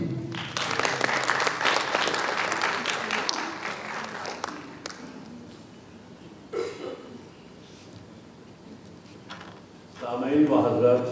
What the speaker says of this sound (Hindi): आप लोगों की तालियों के बीच